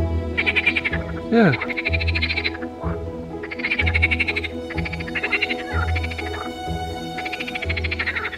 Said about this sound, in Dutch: Zullen ze kikkers horen?